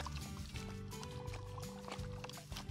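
Lake water trickling and pouring through a filter into a Nalgene bottle outdoors, a steady close liquid gurgle over low background rumble.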